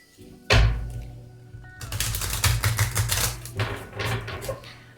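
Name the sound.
shuffling tarot cards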